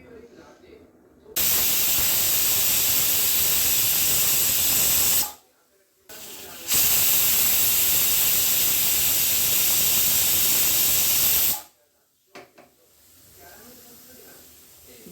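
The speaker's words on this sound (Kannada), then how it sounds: "ಎರಡು ವಿಷಲ್ ಆಗಿದೆ, ಗ್ಯಾಸ್ ಆಫ್ ಮಾಡ್ಕೊಂಡಿದ್ದೀನಿ." Pressure cooker on a gas stove cooking pulao lets out two long, loud hissing whistles of steam, each lasting several seconds, separated by a short pause and followed by quieter kitchen sounds.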